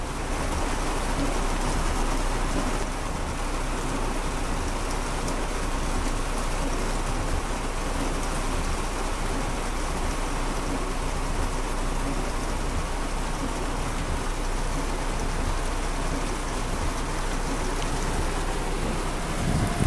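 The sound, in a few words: heavy rain falling during a storm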